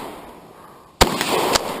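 A Remington 870 hardwood home-defense shotgun fires a single loud, sharp blast up close, followed moments later by a second, smaller crack in the lingering noise.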